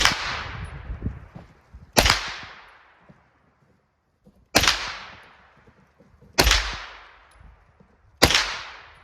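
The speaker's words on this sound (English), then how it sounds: "get them right in the center of that steel target and then squeeze the trigger" A handgun fires at a steel target on an outdoor range, giving five loud, sharp cracks at uneven intervals with long ringing decays, close to the listener and with no talking between shots.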